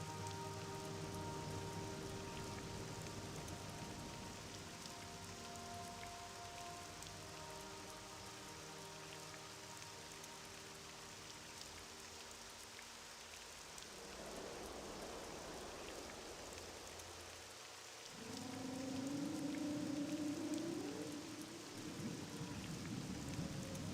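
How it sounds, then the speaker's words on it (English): Steady rain and rumbling thunder in the Morrowind video game, a constant hiss of rainfall with a low roll of thunder building midway, followed by a tonal in-game sound near the end. "Don't let the rain worry you, Outlander."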